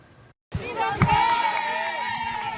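Outside the Zarzuela Palace in Madrid, a crowd cheers, shouts and applauds as former king Juan Carlos I arrives, a sudden burst of lively voices after a brief silence, with a news narrator talking over it.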